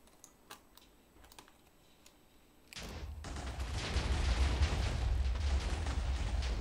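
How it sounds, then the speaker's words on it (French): A Minecraft explosion bursts in abruptly after a few quiet seconds of faint clicking, then rolls on as a loud, dense, crackling roar with deep low-end rumble that keeps building to the end. "sur cette belle explosion du niveau de Super Bidoche."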